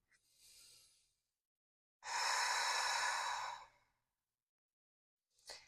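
Slow deep breaths during a yoga stretch in a hatha flow: a soft inhale, then a long, louder breathy exhale lasting over a second, and a short breath at the end, close and alone with no talk.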